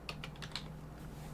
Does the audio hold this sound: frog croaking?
no